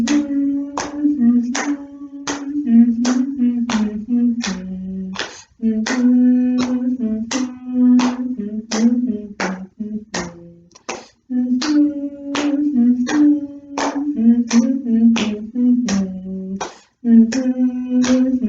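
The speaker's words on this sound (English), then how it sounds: "we're not singing, we're just doing slap clap, and maybe you're humming along" Steady slap-clap body percussion, hands striking thighs then clapping in a repeating beat, with a soft hummed melody running underneath through a children's yoga and story session.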